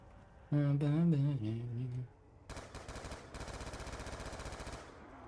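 Rapid automatic gunfire from a weapon in Black Ops 2 Zombies, loud bursts of repeated shots after a short stretch of tonal game sound, heard without talk.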